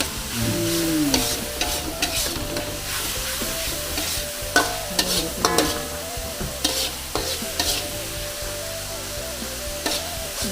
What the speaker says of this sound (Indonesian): Ini bumbunya ini bawang merah, bawang putih, lengkuas, ini sampai harum.